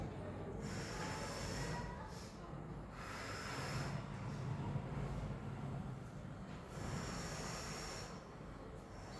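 Forceful breaths are pushed out during an exercise routine in slow repeated cycles. The breaths are close and breathy, with a soft hiss between them.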